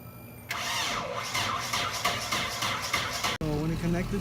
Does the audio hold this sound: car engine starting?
yes